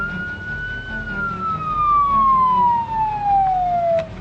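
A vehicle siren in Project Zomboid sounds loud and close, holding a steady wail before sliding down in a long falling sweep as it winds off.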